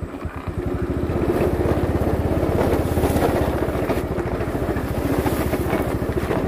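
A Honda motorcycle engine revs hard and steadily while grinding along a narrow, bushy dirt trail, close and loud with a rough, pulsing drone throughout.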